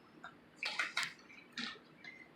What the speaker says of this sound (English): I'm going to add my oil.